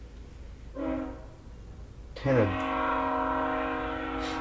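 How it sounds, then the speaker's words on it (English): A train horn sounds from a passing train, a short blast followed by a long sustained chord-like honk, loud and close, with brief talk at the start. "We just didn't want the train to be too loud for you guys so you can understand."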